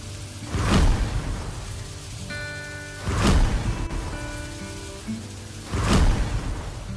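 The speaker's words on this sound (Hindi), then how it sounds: "एक बार बारिश बहुत तेज होने लगी।" Heavy rain pours as a steady hiss, swelling three times into loud rushing surges, with faint musical tones underneath.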